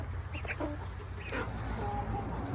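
Young chickens (pullets) cluck and chirp softly nearby, several short calls scattered over a low steady background hum.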